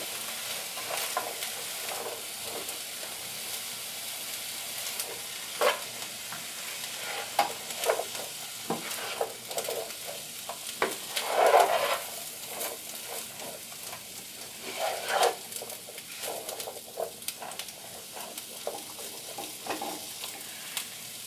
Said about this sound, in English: stir the vegetables